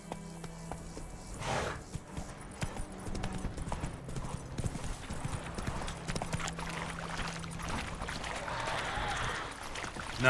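Roach the horse in The Witcher 3 clip-clopping along at a trot, a steady run of hoof strikes close by with game ambience underneath and a brief snort-like rush early on.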